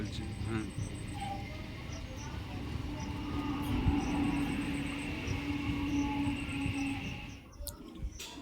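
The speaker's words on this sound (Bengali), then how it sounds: "ফাইনালি আমাদের ট্রেন চলে এসেছে, রামপুর কাটোয়া লোকাল।" A Rampur–Katwa local train arriving and slowing to a stop at a station platform, a low continuous rumble and rolling hum with a faint squeal, people talking nearby throughout.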